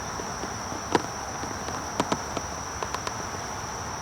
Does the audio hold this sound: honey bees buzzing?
yes